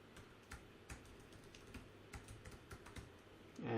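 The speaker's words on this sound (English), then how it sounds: "And then just type in" Fingers typing a web address on a computer keyboard, a steady run of quiet, close keystroke clicks with no talking, ending in a louder bump.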